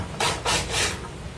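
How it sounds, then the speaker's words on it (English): Nails and screws being worked out of reclaimed wood give three close, rough rasping scrapes in quick succession, then a faint tail. "I have more reclaimed wood here that I have to pull nails and screws out of"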